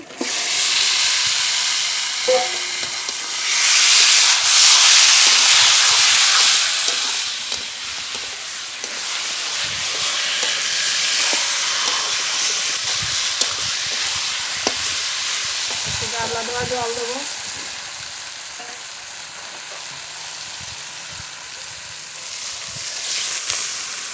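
Masala-coated chicken pieces go into oil-released spice paste, setting off a loud, sustained sizzle with a hissing surge early on, then steady frying and occasional stirring scrapes.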